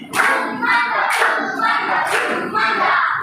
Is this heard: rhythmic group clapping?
yes